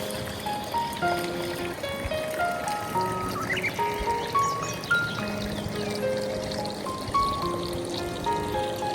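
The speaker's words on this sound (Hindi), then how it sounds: "यहाँ पे भी देखें पानी जो है वो बह रहा है" Water flowing over rocks in a forest stream in Finland, a gentle continuous trickle and gurgle beneath a soft melodic tune that steps up and down.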